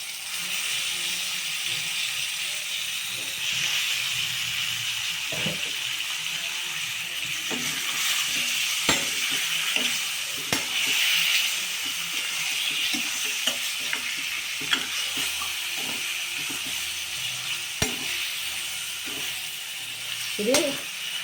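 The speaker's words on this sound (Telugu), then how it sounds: "ఇది నూనెలో మగ్గుతూ ఉంటుందండి." Chicken pieces fry in oil in a pan for a chicken curry, with a steady close sizzle lasting throughout and occasional scraping stirs and small clicks.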